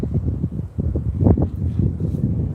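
Heavy, continuous wind buffeting a microphone, with low rumbling gusts and no speech.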